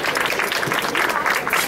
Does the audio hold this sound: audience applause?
yes